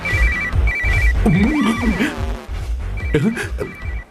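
A telephone rings in repeated short trilling bursts while a voice talks loudly over it, with other background sounds mixed in.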